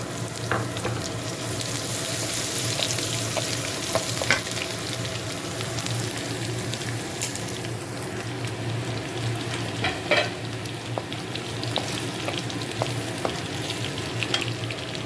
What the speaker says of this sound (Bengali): রসুন দিয়ে দেবো, অনেকটা রসুন, 20-25 কোয়া রসুন থেতো করে দিয়ে দেবো।